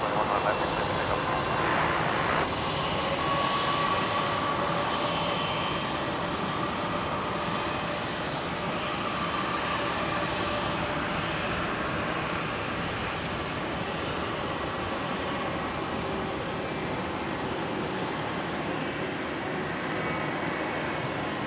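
Aircraft taking off from runway 19 left at Brisbane International Airport, a steady broadband engine roar sustained loudly throughout with little change in level.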